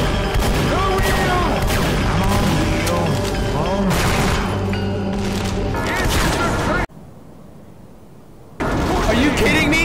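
Grenade blasts and gunfire in Team Fortress 2 boom loudly through a dense battle mix, dropping to near silence for a couple of seconds before the din resumes.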